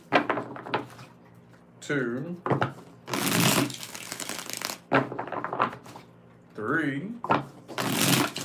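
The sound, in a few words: shuffling tarot cards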